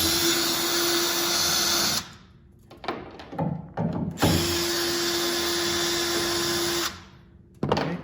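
A power drill backs out Phillips head screws from a Nissan Frontier tail light, whining steadily for about two seconds, pausing amid faint handling clatter, then running again for nearly three seconds before a short final burst.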